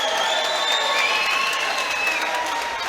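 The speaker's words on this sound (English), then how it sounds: "Let's have a round of applause" A crowd at an SCFC 20 fight event applauds and cheers after a bout, steady clapping with scattered whistles and shouts for a few seconds.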